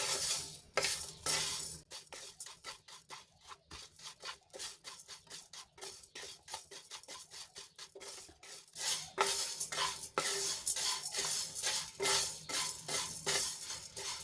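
Spices dry-roasted on a low flame while making homemade buttermilk masala, a spoon scraping and stirring them around a pan in quick repeated strokes, close and fairly quiet, with no talking.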